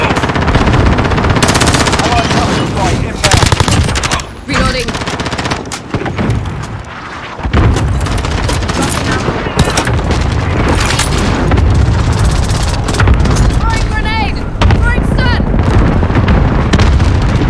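Rapid automatic gunfire and booming blasts from Call of Duty Modern Warfare (2019) Shoot House multiplayer, loud and nearly continuous with bursts of shots, short pauses and a brief voice over the combat.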